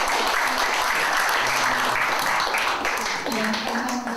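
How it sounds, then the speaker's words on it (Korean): A conference audience at the Yongsan Forum claps in welcome, dense sustained applause filling the room, steady and fairly loud for the whole stretch, with a voice briefly audible underneath near the end. "우리 서로에게 환영의 박수를 보내드리면서"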